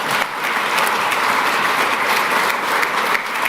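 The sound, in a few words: audience applauding as Don Bacon comes up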